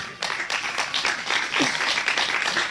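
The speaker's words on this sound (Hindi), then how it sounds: "एक बार परमेश्वर के वचन के लिए ताली बजा दें" Church audience applauding at a curse-breaking prayer session, a steady wash of clapping lasting the whole stretch, with a brief voice under it.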